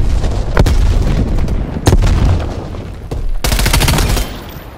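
A grenade blows up in Call of Duty Black Ops Cold War with heavy, loud booms and sharp blasts over rumbling battle noise, amid a burst of rapid gunfire.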